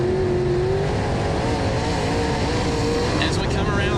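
Race cars at speed on the Brownstown, Indiana dirt track during Castrol Night in America: a continuous, dense roar of engines holds steady throughout, with a higher pitched note surging briefly near the end.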